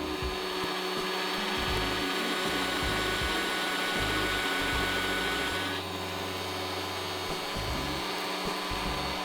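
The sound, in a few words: Bosch PBD 40 bench drill press running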